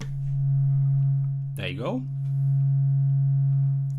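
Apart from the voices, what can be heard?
sine wave from a modular synthesizer oscillator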